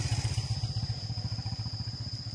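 Motorcycle on a rural trail, a close, pulsing low engine putter with a regular rhythmic beat, steady and moderately loud, no voices over it.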